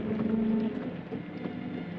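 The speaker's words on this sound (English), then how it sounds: "It's raining." Rain falls steadily around an open-top car on the road, a soft continuous patter at moderate distance, with a low engine-like drone underneath.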